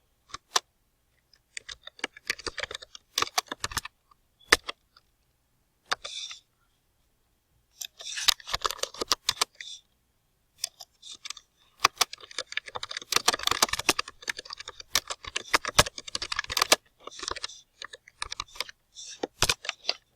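Someone types a question on a computer keyboard in quick, irregular bursts of key clicks, separated by short pauses, close and fairly quiet with no voices.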